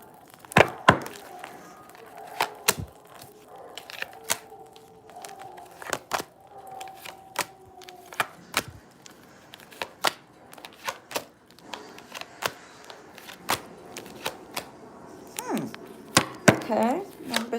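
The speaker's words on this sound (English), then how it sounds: "I'm going to shuffle 3 more times." Sharp, irregular clicks and snaps sound close up, like cards being cut and riffled, with a few quiet spoken words in between.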